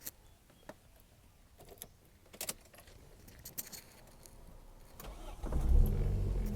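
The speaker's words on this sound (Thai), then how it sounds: "มาฟังเสียงเครื่องยนต์กันดีกว่าครับผม" Factory keys jingle and click for a few seconds, then the 1600cc engine of a 1994 Toyota cranks and catches, settling into a low, steady idle.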